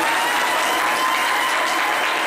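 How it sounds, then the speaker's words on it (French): Dense, steady applause from a studio audience on a French-language broadcast show, loud and continuous throughout with no talking over it. "On va applaudir ces dames"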